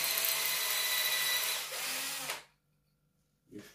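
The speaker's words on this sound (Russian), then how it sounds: "И сверлимся." A drill fitted with a 4.2 mm bit grinds into oven brick, loud and close for about two seconds, then cuts off into near silence, with a brief faint noise afterward.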